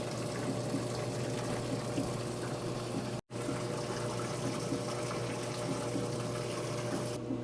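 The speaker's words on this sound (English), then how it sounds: "It's getting water in. It's taking hot water." A used washing machine filling with hot water: a steady, close rush of water pouring and pumping into the drum, continuous apart from one very brief break, with no voices.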